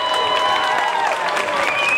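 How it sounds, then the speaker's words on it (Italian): Crowd at an outdoor street singing contest applauds in a short, dense burst of clapping, with some cheering and voices mixed in. "Accogliamo Ivan con un applauso"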